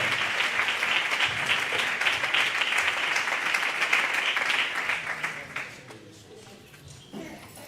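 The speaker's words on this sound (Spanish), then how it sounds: "Fuerte ese aplauso para el Señor y su palabra." A church congregation at a 2020 gathering of churches in Extremadura applauds loudly and steadily for several seconds before the clapping thins and fades out.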